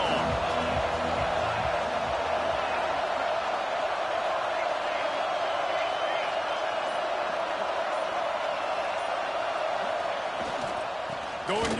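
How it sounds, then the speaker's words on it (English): A football stadium crowd roars in a continuous, broad wash of cheering, loud and sustained throughout, with a few sharper swells near the end. "This crowd ready to make its presence known."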